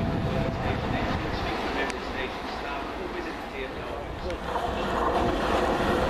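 A London Underground train rumbles past Stamford Brook station, a loud, continuous low roar and rattle of wheels lasting the whole few seconds, with a voice talking over it.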